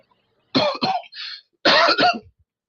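Two short bursts of coughing close to the microphone, the first a pair of coughs with a throaty rasp, then a harsher double cough after a pause.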